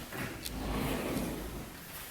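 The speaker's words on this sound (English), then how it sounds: "they actually have a pocket door" A pocket door in a renovated house with a bathroom added to the master bedroom rolls along its track, giving a steady, close, scraping slide that lasts about two seconds with no pauses.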